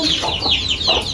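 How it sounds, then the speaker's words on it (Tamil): Chickens cluck and call loudly and close by on a poultry farm, a continuous overlapping chorus of short, rising clucks with no talk. "ஸோ இங்கே கோழி இருப்பாங்க, இங்கெல்லாம் சிக்கு இருப்பாங்க"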